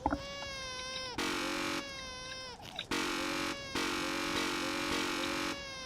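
An infant crying in The Stanley Parable video game, with a series of sustained, wavering wails broken by short pauses, steady and fairly loud, with no talking.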